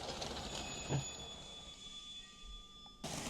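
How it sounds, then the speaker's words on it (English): A small LEGO toy train (60470 Explorer Train set) hums and rattles steadily along the track with a faint high whine, its running noise gradually easing as it slows to a stop, before a brief rise at the end. "this stop button won't stop the train right away. Instead, when you press it, it gradually slows down"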